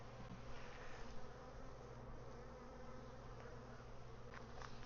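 Swarms of honey bees drone steadily at an open hive during an inspection, a dense continuous buzz at close range, fairly soft overall with no voices.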